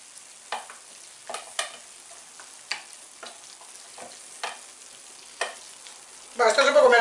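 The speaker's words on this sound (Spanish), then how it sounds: "Removemos con la patata." Potatoes frying in oil in a pan for a Spanish potato tortilla, stirred in separate scraping strokes every second or so, quiet between strokes, then a loud burst of close sizzling at the end; no speech.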